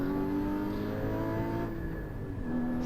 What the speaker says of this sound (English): Oh, that downshift sounds so good.